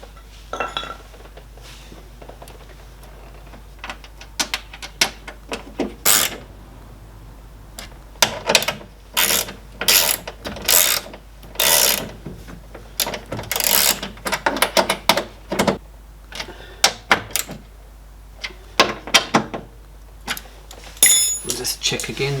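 Screws go back in by hand to secure the driver-side window regulator motor in a 2005 Subaru SG Forester door. Clustered metallic clicks, ratcheting and clattering sound up close, coming in bursts with short pauses.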